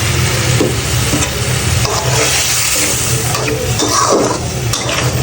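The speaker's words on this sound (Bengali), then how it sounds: "আমি টমেটোগুলো দিয়ে দিচ্ছি" Home-grown tomatoes hitting hot frying spices in a pan while magur fish curry is cooked, a loud, dense, continuous sizzle with steady stirring, close up.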